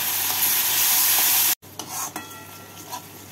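Spice masala with tomato and a little water frying and being stirred in a pan for mrigel fish curry, a loud continuous sizzle that cuts off abruptly, then quieter frying with spatula scrapes.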